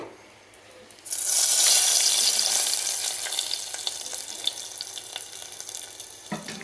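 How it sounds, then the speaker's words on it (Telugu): Hot tadka hits tamarind stew with amaranth leaves, a sudden loud sizzle that bursts in after a quiet moment and then slowly fades into steady crackling and bubbling. "ఇప్పుడు ఈ తాలింపుని తీసుకొచ్చి మన పులుసులో వేసుకుందాం"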